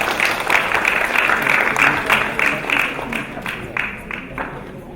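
Audience at a Kenyan alumni conference applauds, a loud, dense round of clapping with some crowd noise that stays strong and then thins into scattered, fading claps toward the end.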